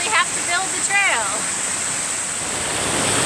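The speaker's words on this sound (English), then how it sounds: "Build a trail up the waterfall." A waterfall on the Appalachian Trail gives a steady, close, broadband rushing roar that runs unbroken throughout, with a few brief high chirps near the start.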